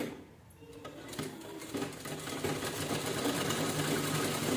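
A sewing machine stitches a two-colour purse, its motor building from a faint start into a steady, fast mechanical whir that holds close and even to the end.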